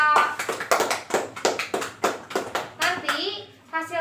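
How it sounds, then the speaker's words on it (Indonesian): Children clap their hands in a classroom, a quick run of sharp claps close by, mixed with kids' voices and brief speech. "Tepuk tangan semuanya buat kelompok 2."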